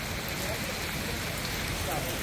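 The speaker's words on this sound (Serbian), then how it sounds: "da vidite kako kiša dobuje i pada." Rain pelts down on a surface at a street market in Paris, a dense, steady hiss of drops that fills the whole moment at moderate volume with no pauses.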